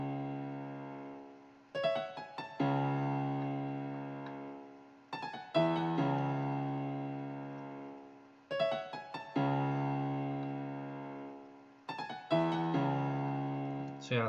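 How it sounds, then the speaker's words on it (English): A piano plays repeating chords with quick high rolled runs in a hip-hop beat hook, each phrase sustaining and fading before the next begins. "So the piano for the hook part sounds like this."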